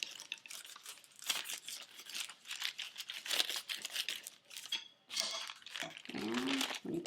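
A rolling pin presses and flattens keto chapati dough on parchment paper, giving soft crinkling rustles and rolling scrapes in irregular bursts, close and fairly quiet, with no talking.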